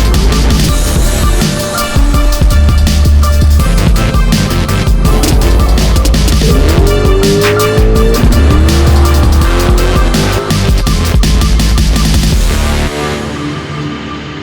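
A nitrous drag race car with a 400 engine and carburetor roars loudly and steadily down the drag strip, engine pitch sweeping upward through gear changes before trailing off, with no talking.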